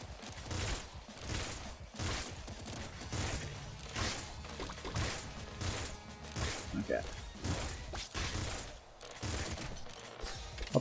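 Burst weapon firing in the Nuclear Throne video game, rapid clustered bursts of shots repeating steadily throughout, loud and close, with layered game effects.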